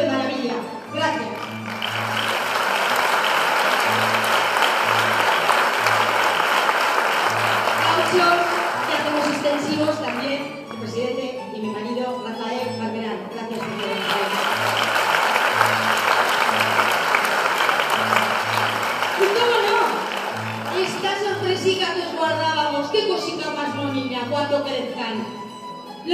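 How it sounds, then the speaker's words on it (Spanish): A theatre audience at a Rondalla Caspolina folk-music performance in Caspe applauds in two long, loud waves with a short lull between them, while a low steady note sounds underneath and voices cut in during the pauses. "Aplausos primero para aquel personaje que está al fondo"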